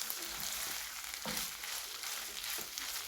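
Mince meat stew bubbling and sizzling in a pot, a steady close frying hiss with soft stirring clinks, no voices.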